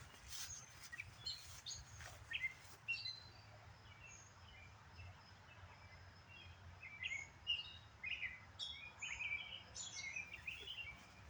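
Bright American robin chirps and warbling phrases repeat in the distance over a soft outdoor hum, faint and unhurried, on a garden pathway.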